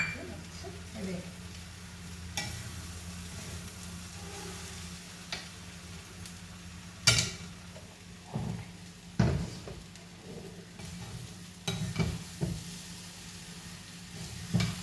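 Banana flower stir-fry with grated coconut being stirred in a pan, a soft sizzle running throughout with scattered spoon scrapes and taps against the metal at irregular intervals.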